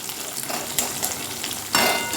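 Onion sizzling in oil in a pan for dal, steady frying hiss broken by stirring scrapes and two louder metallic clanks of a spatula against the pan.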